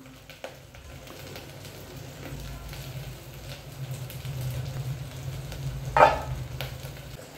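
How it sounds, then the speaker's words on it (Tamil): Netili fish curry with coconut simmering in a clay pot, a low steady bubbling sizzle with occasional stirring and one sharp clink near the end, no talking. "இப்போ தேங்காய் சேர்த்து நல்லா குழம்பு வந்து கொதிச்சிச்சு"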